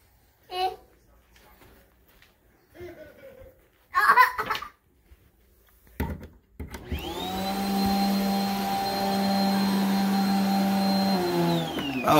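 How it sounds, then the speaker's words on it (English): A household vacuum cleaner starts partway through and runs steadily and loudly to the end with a constant whine, after a child's babbling, giggles and brief speech in a home with a couch. "he's watching a video with vacuuming."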